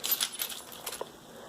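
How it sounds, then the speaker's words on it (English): Keys jangle close by in a quick cluster of bright metallic clinks, then settle into a couple of softer taps before fading out. "So let's take out some keys."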